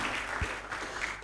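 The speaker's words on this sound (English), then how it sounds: "Please, a round of applause for them again." Audience clapping for a panel at a 40th anniversary celebration and general meeting in Abuja, a dense, moderately distant round of applause filling the moment with a faint voice underneath.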